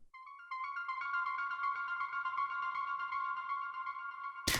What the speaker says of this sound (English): just give this kind of ethereal techno ambience effects.